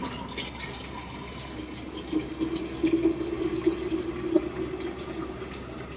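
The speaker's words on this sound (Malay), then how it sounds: "jadi kita boleh terus kan tuang kita punya jus kalamansi" Calamansi juice pours through a strainer in a home kitchen, making a steady soft trickle and splash that grows slightly louder and busier midway.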